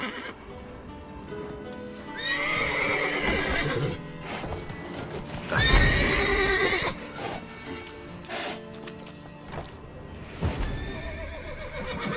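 Several horses in the video game The Witcher 3: Wild Hunt whinny and neigh in turns, loud and close, with hooves clopping and shuffling between the calls.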